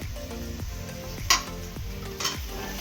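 Shallots sauté in a pan for beef curry, giving a steady low sizzle while a spoon stirs in repeated strokes and scrapes, with a couple of brief metallic clinks against the pan.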